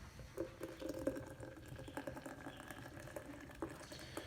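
A nitro beverage is hard-poured from a can into a tall glass, giving a faint, close liquid rush and fizz with small splashy bursts throughout.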